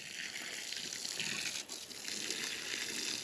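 Water gushes steadily from a hose or can onto an organic vegetable patch in the Scottish Highlands, a soft continuous splashing hiss at low level with no talk.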